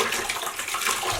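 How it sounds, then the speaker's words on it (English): Running water splashing over hand-dyed yarn as it is rinsed clean of dye and soap, a dense continuous rushing spray from a tap, close and steady without pause. "I will still rinse it a few times to make sure I wash out all the soap"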